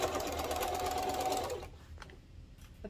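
A sewing machine stitches waterproof canvas for a car trash can bag in a steady, fast whirring run, then stops after about a second and a half, leaving a few faint clicks and handling noises.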